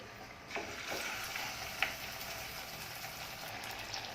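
Sweet potato medu vada fry in oil in a kadai, a soft continuous sizzle with a few faint bubbling pops, low in level and without voices.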